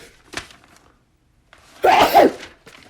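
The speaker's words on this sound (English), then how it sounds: "I got to sneeze." A man lets out one loud, close sneeze after a brief quiet pause, with a little faint rustling before it.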